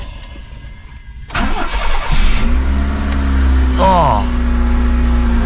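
A Honda Civic engine that has sat unused for a while, choke pulled fully out, is silent, then cranks and catches and settles into a loud, steady idle. A short voice exclamation is heard near the start.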